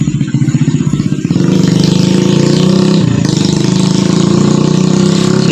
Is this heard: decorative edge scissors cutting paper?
no